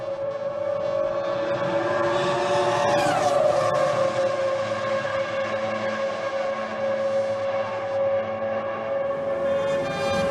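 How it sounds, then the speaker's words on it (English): Ferrari F1 Clienti race cars lapping the Monza circuit, a sustained high-pitched engine wail with one car sweeping past around the three-second mark, heard at a moderate distance without speech. "the audio backdrop is of some F1 Clienti cars out on track"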